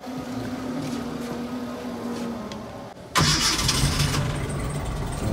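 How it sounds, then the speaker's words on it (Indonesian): A 1993 antique car's engine runs steadily, shifting from a softer rumble to a louder, brighter, even idle partway through, close by with no talk over it. "Oh, masih langsam banget loh saudara ya."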